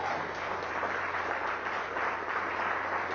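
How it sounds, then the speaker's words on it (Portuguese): A church congregation applauds during a sermon on anointing, a steady, even wash of many hands clapping, moderately loud and continuous throughout. "Dê um aplauso ao Espírito Santo."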